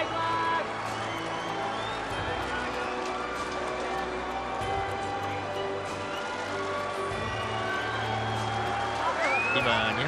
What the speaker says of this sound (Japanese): 大きな歓声